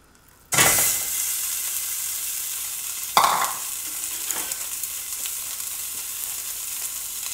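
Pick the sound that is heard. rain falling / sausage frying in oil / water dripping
sausage frying in oil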